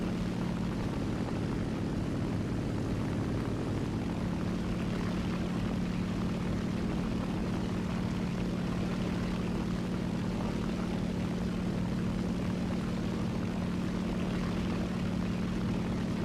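A propeller plane's engine drones steadily in War Thunder air arcade, a loud, even, continuous hum with a low tonal whine that never lets up, with no talk.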